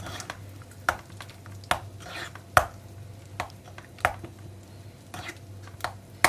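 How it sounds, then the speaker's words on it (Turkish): A spoon stirs garlic yogurt with salt in a bowl, knocking and scraping against the side in a steady rhythm of close, sharp clicks about once a second. "Bunu böyle karıştıralım."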